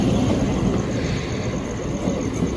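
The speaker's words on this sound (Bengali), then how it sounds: "অনেক প্রতীক্ষার অবসান ট্রেন আসছে আমাদের" A train pulls into a station, its deep, loud rumble filling the whole stretch as a continuous roar without a break.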